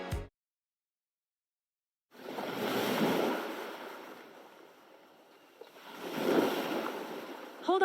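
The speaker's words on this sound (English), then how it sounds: "The waves are getting bigger." Ocean waves roll in two broad surges of noisy wash, each swelling and fading, after a brief silence; no talking.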